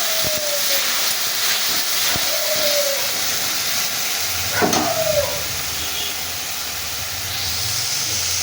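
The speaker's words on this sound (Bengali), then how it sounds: "এবার আমি বেটে রাখা মশলাটা দিয়ে দিলাম।" Ground spice paste hits fried pointed gourd and onion in a pan, making a steady hissing sizzle with occasional scraping squeaks and clinks from a spatula, close up and without talk.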